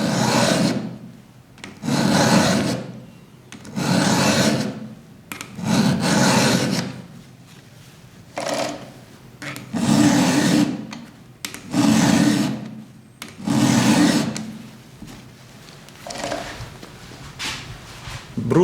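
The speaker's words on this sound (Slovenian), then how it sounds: "Brusimo pa lahko tudi z eno roko, če nam je lažje, kar pomeni, da z eno roko potisnemo pilo naprej." A hand file rasping across the teeth of a chainsaw chain in steady, close push strokes, about eight rough bursts with short pauses between them, with no talk.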